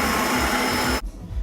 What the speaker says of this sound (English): Put all your ingredients in the jar and blend them.